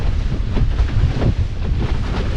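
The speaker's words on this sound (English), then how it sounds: "It's so gusty." Gusty wind buffets the microphone while windsurfing across the Solent, a loud, rough low roar that swells and eases in quick gusts, with faint water wash beneath.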